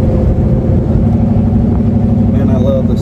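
A Ford F-150 bullnose pickup with a 351 Windsor V8 and aluminum heads and intake runs warmed up, a steady, close, loud low rumble with an even throb that holds throughout.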